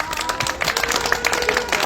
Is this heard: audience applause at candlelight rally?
yes